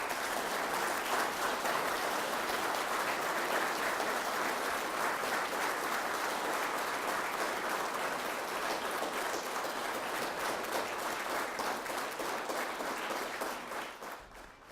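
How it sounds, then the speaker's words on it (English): A hall audience at a North Carolina constitutional law panel event applauds steadily and loudly for about fourteen seconds, dense even clapping that fades out at the end. "please honor our distinguished panel with a round of applause"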